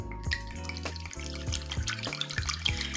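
Vodka pours from a bottle into a container for homemade vanilla extract, producing a close, continuous liquid glugging and trickle with rhythmic gurgling pulses as air enters the bottle.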